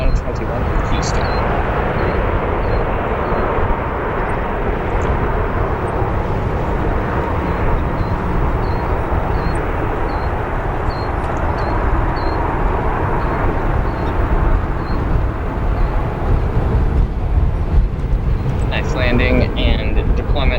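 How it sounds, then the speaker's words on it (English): A United 737 MAX 8 landing at O'Hare with reverse thrusters deployed, a loud, sustained broadband engine roar that stays strong throughout, heard from a distance, with a person talking over it. "Landing and deployment of the reverse thrusters there."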